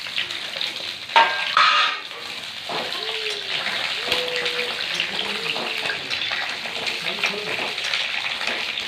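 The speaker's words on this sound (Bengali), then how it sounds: "তেলটা গরম হচ্ছে, তেলের মধ্যে পটলগুলো ভেজে নেবো।" Pointed gourd frying in hot mustard oil in a kadai, a steady bright sizzle that holds for the whole stretch, with a short louder burst of spattering near the start.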